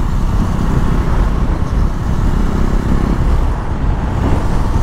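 A loud, steady engine drone, like a motorcycle running close by, filling the whole stretch with constant rumble.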